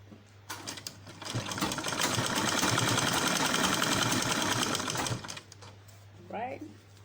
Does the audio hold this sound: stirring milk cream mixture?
no